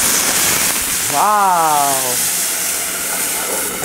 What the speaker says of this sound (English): I'm adding in some water to steam it. It'll create some splash.